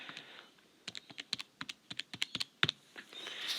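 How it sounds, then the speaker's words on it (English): Calculator buttons get pressed in a quick run of sharp, close clicks, some clustered and some spaced apart, ending in a faint soft rustle. "I'm going to pop that in my calculator"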